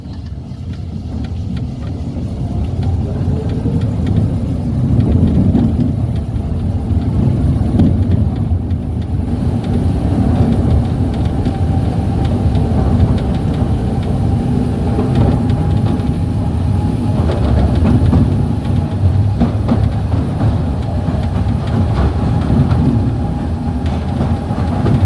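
Ride aboard the London Mail Rail underground train: a loud, steady rumble and rattle of the small train running through the tunnel, continuous with no talk.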